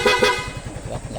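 Two short, sharp honks of a motorcycle horn in quick succession, close and loud, followed by a low idling engine rumble.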